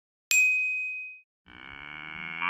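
A single bright bell ding rings out and slowly fades, followed after a short pause by a low, drawn-out cow moo.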